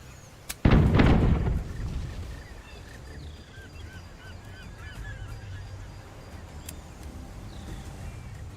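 A ship's mortar fires in the pirate naval game Tortuga: A Pirate's Tale with one heavy, booming blast that decays into a low rumble. Faint squawking bird calls and quiet ambience follow.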